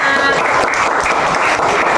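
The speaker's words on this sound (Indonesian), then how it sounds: "kita berikan tepuk tangan." A short burst of enthusiastic clapping from a group of schoolchildren in a classroom, dense and continuous, with a few voices mixed in.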